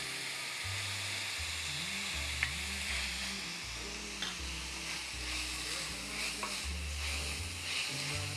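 Onion and cauliflower sizzle in vegetable oil with a steady, even hiss, joined by a low stepped tonal hum running underneath throughout.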